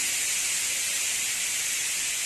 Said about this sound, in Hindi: मेरे कुकर में सीटी आ रही है, मैंने दाल चढ़ाया हुआ है